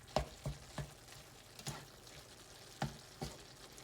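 Ground beef with shallots browns in a pan, a faint, close sizzle with soft scraping stir clicks spaced irregularly, no talking.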